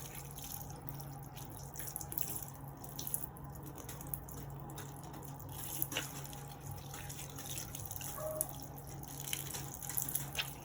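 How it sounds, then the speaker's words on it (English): A tap runs steadily during surgical handwashing, a faint, continuous wash of water with soft drips and splashes into a sink, alone and unbroken. "And then you rinse your hands properly."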